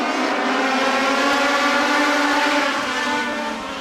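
Race cars in the VP Racing Semi-Pro B main at Charlotte Motor Speedway take the green flag off turn 4. The pack's loud, continuous engine roar sweeps close by and holds, with no one talking.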